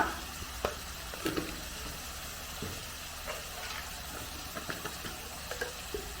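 Chicken keema mixture sautéing in a pan for keema dosa, a soft, fairly quiet sizzle with intermittent light scrapes and taps of the spoon, close by and without speech.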